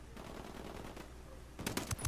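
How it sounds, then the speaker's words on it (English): Automatic gunfire from the shooter game Ghost Recon Wildlands: a low, continuous battle rumble gives way to a few close, punchy shot bursts in the final half-second, with no talking. "I'm just shooting a couple of them."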